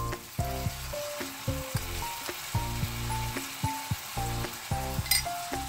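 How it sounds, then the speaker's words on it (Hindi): Green chutney with garlic sizzles steadily as it fries in a pan, close and moderately loud, with a tonal hum running underneath throughout. "इसको डाल के अच्छे से भूनते हैं पहले, क्योंकि चटनी में लहसुन है"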